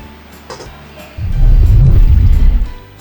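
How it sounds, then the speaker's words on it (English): Water is poured into a pot over pork belly for Thai braised pork: a close, deep, sloshing rush lasting about a second and a half that then tapers off, with no talk. "We're going to cover this with water."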